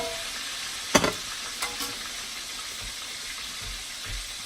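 Chicken fried steak frying in a pan of hot grease, a steady low crackle with a sharp spatter burst as it is flipped, then quieter sizzling continues alone.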